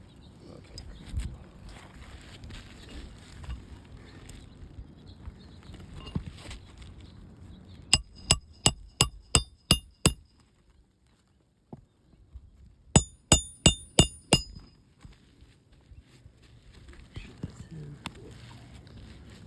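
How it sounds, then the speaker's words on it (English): Nails are hammered into roof shingles during a repair, heard as two quick bursts of about six sharp, ringing blows each, with low voices and murmuring before and after. "There's already a ton of granules coming off while he's hammering in the shingle or the nails."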